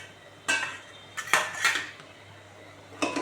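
A spoon scrapes and clinks against a pan while spice powders are stirred into vegetables, four sharp metallic knocks at uneven intervals over a quiet background, with no talking.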